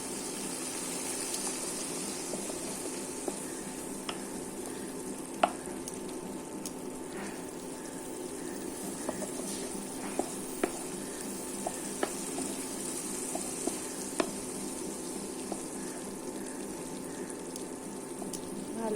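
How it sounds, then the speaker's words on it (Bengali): A soya cutlet curry masala is sautéed in a pan, giving a steady, soft sizzle and bubbling with a few faint scrapes and clicks of stirring throughout. "ভালো করে কষিয়ে নিচ্ছি।"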